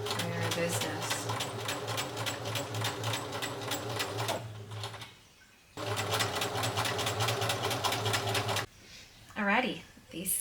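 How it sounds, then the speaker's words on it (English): Sewing machine stitching a gathered circle skirt onto a linen dress, fast even needle chatter in two long runs with a brief pause between, close and clear, ending with a short rustle. "And then I'll just like stitch those gathers down against the edge of the circle skirt."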